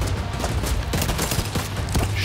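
A turret machine gun in The Division 2 fires a steady, rapid stream of thudding shots close by, with heavier impacts standing out through the continuous rattle.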